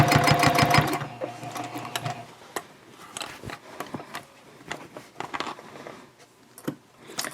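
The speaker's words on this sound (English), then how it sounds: "I'm just going to sew all around the top edge." Sewing machine stitching around the top edge of a fabric basket, a loud steady rapid hum for about the first second or two, then stopping and leaving scattered handling clicks and taps.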